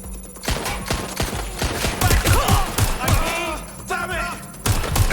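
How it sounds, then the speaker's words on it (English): Gunfire in the video game Watch Dogs Legion: dense, close bursts of rapid shots and thuds, mixed with voices and busy game sound. "Shots fired!"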